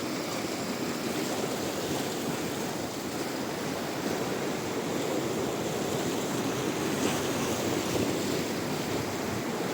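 Rough sea waves surge and crash continuously, a loud, steady roar of surf mixed with wind buffeting the microphone.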